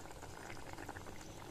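Egg curry (muttai kuzhambu) simmering under a lid in a pot, giving a faint, steady stream of soft bubbling and gentle boiling with no one speaking.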